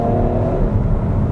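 An Opel Grandland's engine hums and revs steadily on the road, a loud, close low drone of the car under way with no talk.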